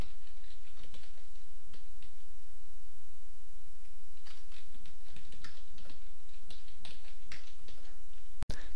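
Steady clicking of keys on a computer keyboard as code is typed, irregular bursts of keystrokes over a low constant hum, close and moderately loud.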